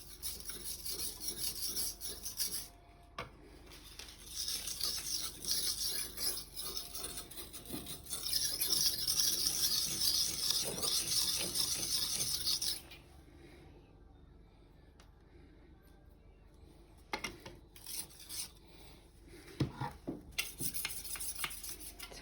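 A knife blade is sharpened on a grinding stone at a shallow angle, giving rasping, scraping strokes in uneven bursts with quieter gaps between them, heard close up.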